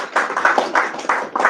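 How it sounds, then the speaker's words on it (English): A small audience at a tech talk gives a brief round of applause, a short patter of a few hands clapping in loose bursts, close and moderately loud. "A small round of applause for that, I think."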